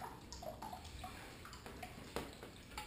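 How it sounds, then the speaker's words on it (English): Water trickles steadily from a bypass valve on a gold sluice during cleanup, a soft continuous outdoor wash with small splashes and drips. "My little bypass valve now has a little trickle coming out of it"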